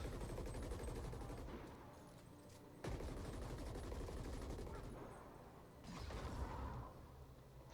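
Rapid automatic gunfire from shooting enemies in the action game The Ascent, dense bursts of shots with a brief pause near three seconds, loud and continuous against a busy game soundscape.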